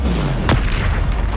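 Confringo fire-blast spell in the video game Hogwarts Legacy, a single sharp boom that erupts over steady game background noise and then fades.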